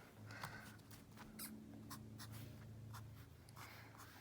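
Hand-sketched circle: soft, faint scratching strokes of a pen or pencil on paper, quiet and close, in short repeated bursts with no talking.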